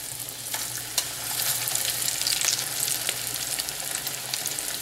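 Salmon croquette patties fry in hot oil in a pan, a steady close sizzle with fine crackling pops and a few soft clicks, with no voices over it.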